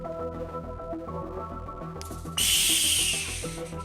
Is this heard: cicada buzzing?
no